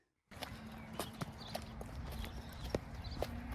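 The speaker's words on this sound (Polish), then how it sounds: "Boże, koń, nie widzisz konia?" Horse hooves clip-clop in an even walking rhythm, close and fairly clear over steady outdoor background noise, with no talking.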